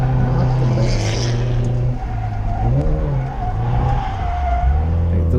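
A Nissan S14 drifting at a drift event, engine revving hard and shifting pitch as clutch kicks initiate slides, with steady tire squeal and skidding running loud and continuous throughout.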